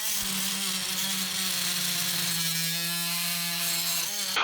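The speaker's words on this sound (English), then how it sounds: "Use your oscillating tool with the Oschlun blade that's designed for metal." An oscillating multi-tool fitted with a metal-cutting blade cuts through copper pipe, giving a steady, close buzzing drone with a rising harmonic whine that holds for several seconds before cutting off.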